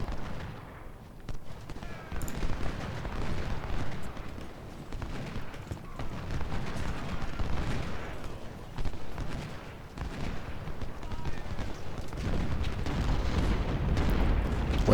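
Musket volleys and artillery fire rumble through a Civil War battle game, a continuous dense roar of overlapping gunshots and low booms, loud and unbroken, with no clear separate shots.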